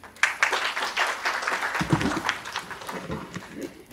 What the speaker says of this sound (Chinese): 那请各位掌声欢迎 Jack。